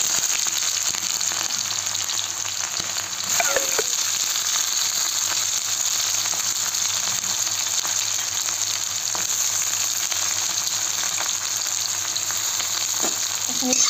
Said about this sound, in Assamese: তেলটো গৰম হ'ল তেজপাত দি দিলোঁ এবাৰ দিম মই পিঁয়াজ